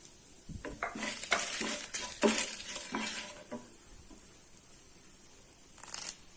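Onions sautéing with dried red chillies in a pan for a Tamil onion thokku, with a busy stretch of stirring scrapes and soft sizzle that fades to a quiet hiss, then one brief clatter near the end.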